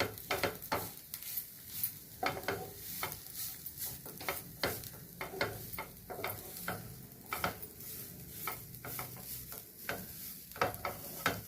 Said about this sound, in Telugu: దోరగా వేయించాలి, కొంచెం పచ్చివాసన పోయేంత వరకు.